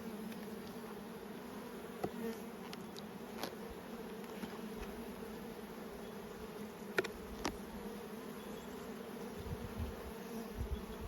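Honeybees swarm thickly around an open hive frame after part of the colony has swarmed away, giving a steady, close, continuous buzz with a few sharper passes of individual bees and no talking.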